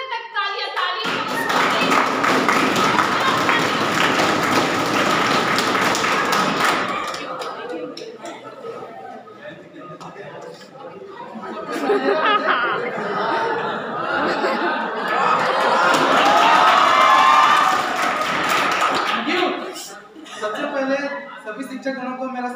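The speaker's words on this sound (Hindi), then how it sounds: "हाथ टूटने तक तालियां तालियां।" Students at a university National Youth Day event clapping loudly in a hall, two strong bursts of massed applause separated by a quieter stretch of chatter and laughter, with voices talking throughout.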